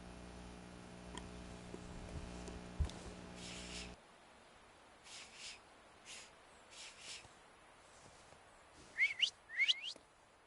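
Whistling in the video game The Thaumaturge, a few short bright whistled notes late in the clip after some soft scattered sounds, fairly quiet overall.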